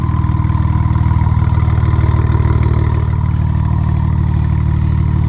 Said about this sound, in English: when I cold start it, you hear the spool of the turbo. You can hear them now.